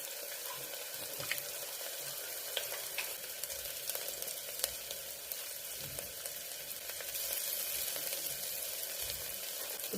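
Ivy gourd pieces frying in a pan for a fenugreek tamarind curry, a steady soft sizzle with occasional stirring scrapes and clinks, close and fairly quiet, no talking.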